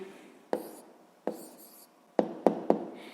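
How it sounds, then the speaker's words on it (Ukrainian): Pen or pencil writing out the answer to a sixth-grade math exercise, heard close up as several distinct scratchy strokes and taps separated by short pauses, with no voices. "Гаразд, записуємо відповідь."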